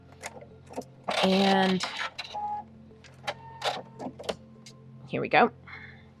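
A sewing machine runs in a loud, steady burst while joining the top two pieces of a Stars and Stripes quilt, then stops; shorter clicks and handling noises follow, with a voice speaking briefly near the start.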